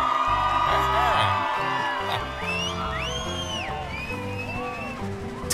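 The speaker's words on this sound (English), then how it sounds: "Look how many villagers came out to cheer us on!" A Minecraft crowd of villagers whoops and cheers during a train race, their excited calls rising and falling over upbeat game music.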